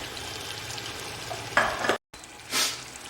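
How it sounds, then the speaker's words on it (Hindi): Low background hiss, then bursts of loud sizzling and scraping as food is stirred in a hot pan, with a brief drop to silence between them. "और एक बार और भून लेंगे।"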